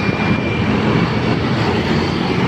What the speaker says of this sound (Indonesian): saya mengendarai motor Vario